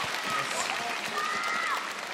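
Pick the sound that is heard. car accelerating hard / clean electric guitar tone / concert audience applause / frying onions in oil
concert audience applause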